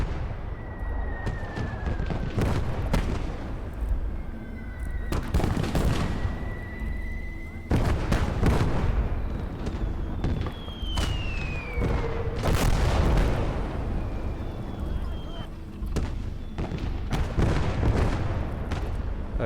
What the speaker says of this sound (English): Right, mortars.